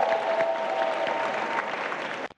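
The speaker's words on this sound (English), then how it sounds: "let's give him another round of applause" Audience applause for a master traditional drummer at a youth forum, a steady mid-level patter of clapping that carries through and cuts off abruptly at the end.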